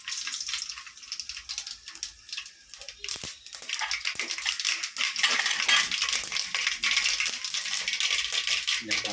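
Mustard seeds and lentils drop into hot oil in a pan. Soft sizzling and popping crackle through the clip, mixed with the rattle and scrape of a metal spoon, fairly quiet and close.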